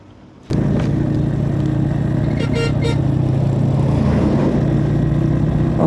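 A motorcycle ride near the Jammu Kashmir border in Pakistan: the engine cuts in abruptly and then drones loud and steady close by, with a brief tonal chirp partway through.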